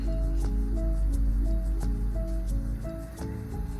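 A thick peanut butter soup is stirred slowly in a pot with oil rising on top, giving soft wet squishing and dripping sounds. They run steadily over a low background hum, with faint tonal notes throughout.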